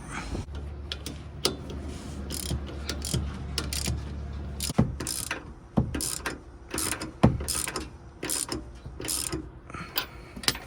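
A ratchet wrench tightens the sway bar link nuts on a 1997-2003 Ford F-150, giving close, rapid clicking bursts in uneven runs over a low background hum, with no talk.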